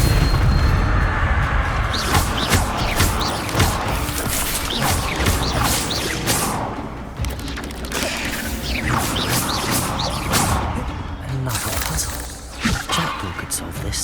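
Bursts of the Incendio fire spell in Hogwarts Legacy, set in the Forbidden Forest, burst out repeatedly amid rumbling booms and clattering combat effects, loud and busy across the whole stretch.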